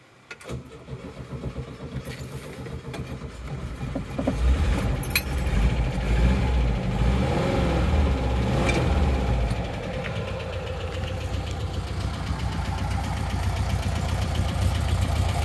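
A 1974 VW Kombi Deluxe Microbus engine cranks and catches, then settles into a steady, loud, close idle with a rough, rhythmic air-cooled chug that continues to the end.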